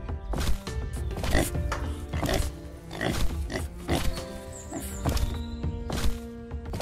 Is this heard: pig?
yes